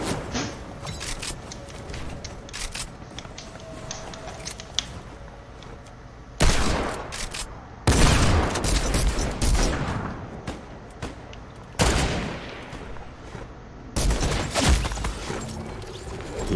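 Rifle gunfire in the Fortnite battle royale game, heard as bursts of repeated shots that come in several loud volleys separated by quieter gaps of game ambience.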